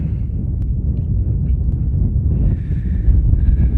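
Strong wind buffets the microphone on a flat mountain summit in Donegal, a loud, steady low roar with gusts that lasts throughout.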